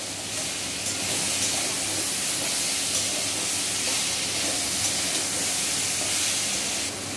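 A steady, loud hiss and sizzle of water hitting a hot pan of papaya and spices, continuing evenly throughout without any talking.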